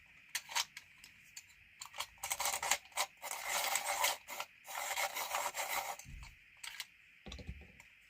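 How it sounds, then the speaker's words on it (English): Coloured pencils, numbers 95 and 17, being sharpened by hand: quiet scraping, rasping bursts in short irregular runs, close and soft, with a couple of light knocks near the end. "I'm just going to sharpen those quickly."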